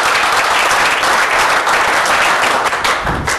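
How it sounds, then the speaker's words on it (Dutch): A live audience gives dense, sustained applause for four lead cast members of the Dutch series Oirschot Uruzgan, steady and loud throughout with no voices over it. "Wat een geweldige ontvangst en wat een applaus voor deze vier mensen"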